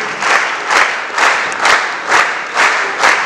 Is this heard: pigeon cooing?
no